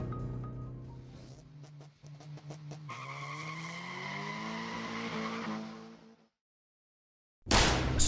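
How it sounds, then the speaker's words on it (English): A car skids and spins out with long, loud tire squeal and engine roar that bends in pitch for several seconds, then cuts to silence before a closing burst of noise. "The crooks fail this time and spin out."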